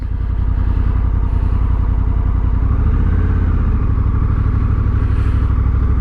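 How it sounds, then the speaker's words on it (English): A 2025 Honda Africa Twin motorcycle with an automatic transmission runs with a steady, loud, close engine throb as it is throttled to pull away, heard alone without talk. "you're just going to pull the throttle and start going."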